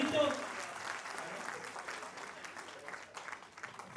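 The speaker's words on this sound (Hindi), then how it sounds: "एक बार जोरदार तालियां मिलके बजाइए।" Steady applause from an audience at a Hindi comedy poetry gathering (hasya kavi sammelan) fills the hall, with a voice briefly heard at the start before the clapping carries on evenly.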